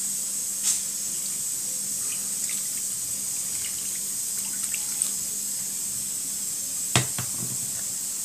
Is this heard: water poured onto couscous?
yes